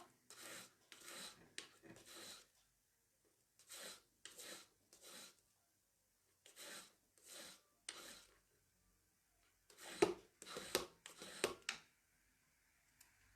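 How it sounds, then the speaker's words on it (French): A gold wedding ring is rubbed with a very fine-grit emery stick in a jeweller's workshop, giving short raspy scraping strokes in quick bursts of two to four, separated by pauses, close and quiet. "j'utilise un cabron avec un grain tout fin, tout fin."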